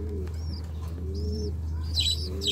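Pigeons from a breeder, boxed, give soft repeated coos and a few chirps close by, steady over a constant low hum, with no talking.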